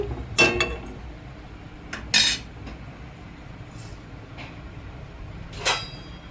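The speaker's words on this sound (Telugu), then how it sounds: "ప్లేట్ మూత వేస్తున్నాను" A plate set down as a lid on a cooking pot of eggs and water for egg curry, heard as a few sharp metallic clinks and clatters spaced across the moment, fairly close and otherwise quiet.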